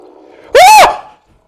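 A dog in the video game Squirrel Stapler lets out one loud, sharp bark, short and close, followed by quiet.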